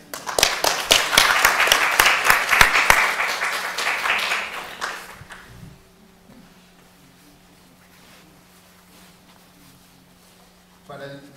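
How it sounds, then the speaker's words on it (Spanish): An audience at a legal colloquium applauds the speakers with strong, rhythmic clapping that fades after several seconds into a quiet room with a faint hum and a brief sound at the end. "Les pido por favor les den un fuerte aplauso a los ponentes"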